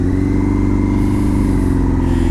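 Close, loud steady engine running of a carbureted 2005 Yamaha FZ1 motorcycle, an even throbbing drone with no talking.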